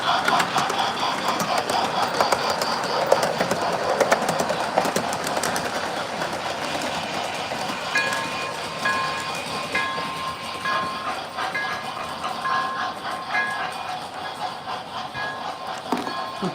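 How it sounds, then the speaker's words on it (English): A Lionel Thomas toy train engine runs along its track with a steady rolling clatter and rattle for the whole stretch, straining as it goes, with faint indoor background noise. "the Lionel Thomas engines do not have any pulling power"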